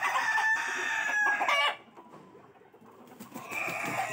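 A rooster crows loudly and close for about a second and a half, its drawn-out call ending abruptly, then a quieter stretch of background noise before more ambient sound returns.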